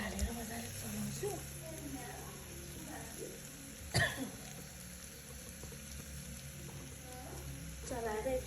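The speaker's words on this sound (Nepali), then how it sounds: "अब यसलाई म थोरै गोलबेडा हालेर मजाले चलाउँछु।" Tomatoes stirred into frying spices in a pan while making mutton leg soup, a low sizzle with scraping and clinking under occasional throat clearing and quiet background sounds.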